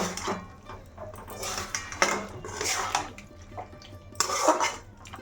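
Chicken broth poured into a pan of cooked chicken, with pots, pans and utensils clinking and scraping in irregular bursts at close range.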